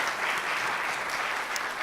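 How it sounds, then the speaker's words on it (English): An audience at a fashion symposium applauds the designers, a short, even patter of many hands clapping at moderate volume with no voices over it. "so can we give them an applause for that?"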